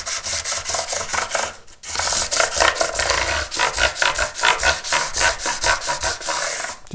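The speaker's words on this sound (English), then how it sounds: "I'm just going to start off with some 400 wet and dry, and it's on an 18mm MDF block" Guitar frets being sanded with 400-grit wet and dry paper wrapped on a flat 18mm MDF block, a brisk rhythmic back-and-forth rasping, close and steady, with one short pause.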